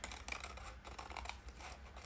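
Scissors trim paper for a handmade writing journal, a quick series of soft, close snipping and rasping cuts heard alone at low volume.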